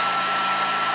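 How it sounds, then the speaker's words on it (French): The cooling fan and air-assist compressor of an EnjoyWood E20 20W laser engraver whir in a loud, steady, close blowing drone with a faint tonal hum and no talk. "Le ventilateur qui souffle l'air dans le laser est plutôt bruyant."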